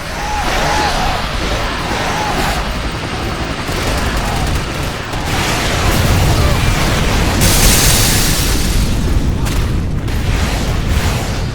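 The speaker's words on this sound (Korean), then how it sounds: "폭발이 시작된다." Explosions erupt in a video game, a long, dense roar of booming blasts and crackling bursts that swells louder midway and stays loud throughout.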